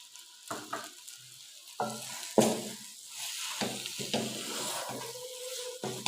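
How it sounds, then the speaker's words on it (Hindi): Chicken filling with soy sauce stir-fried in a pan for bread chicken patties, with steady sizzling and repeated bursts of spatula scraping and stirring, close and moderately loud, no talking. "और थोड़ी देर भूनेंगे और चूल्हा बंद कर देंगे।"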